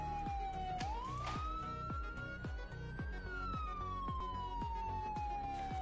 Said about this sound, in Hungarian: Ez itt szirénázik?